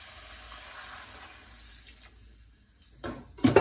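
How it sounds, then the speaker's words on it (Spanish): A cup of water is poured into a pot of simmering zucchini in a home kitchen, heard as a brief, loud splashing gush after a low background hiss. "Ahora le voy a agregar una taza de agua."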